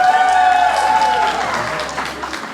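Crowd applause and cheering, loud and steady at first, easing slightly toward the end, with some whoops mixed into the clapping.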